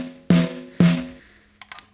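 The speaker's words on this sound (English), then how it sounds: "Snare top only," Snare drum heard through its top microphone alone, two crisp close hits with a ringing body that fades, followed by a few faint small clicks.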